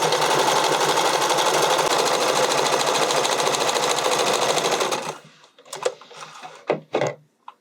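A sewing machine stitches a bodysuit in one loud, steady, rapid run for about five seconds, then stops, followed by a few short clicks and handling knocks.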